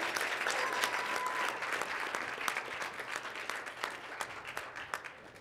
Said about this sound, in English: Big round of applause for Miss Eleanor.